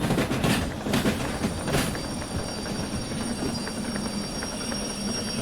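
Train in the Derail Valley rail simulator slowing in snow, a dense rumbling roll with clattering wheel noise and faint high squeals, loudest at the start and easing to a steady hum.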